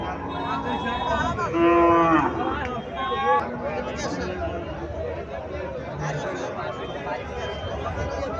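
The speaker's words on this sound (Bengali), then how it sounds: "এখানে একটা গাভী দেখা যাচ্ছে, হোলিস্টেম ফ্রিজিয়াম জাতের গাভী" A Holstein Friesian cow at a weekly cattle market lets out a loud drawn-out moo, followed by a shorter one, over a steady crowd babble with people talking.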